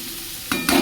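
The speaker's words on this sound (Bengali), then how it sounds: "এটা একটু ওলট পালট করে ভেজে নেবো।" Long beans, potato and snake gourd stir-frying in a pan, a steady low sizzle broken by two louder scraping turns of the spatula near the end.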